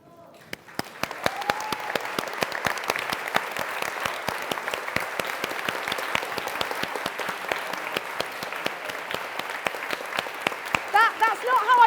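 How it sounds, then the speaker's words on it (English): A conference audience at an education festival claps together for nearly twelve seconds, steady and dense. Voices and cheers sit partly underneath the clapping, which swells slightly toward the end. "Give yourself a round of applause."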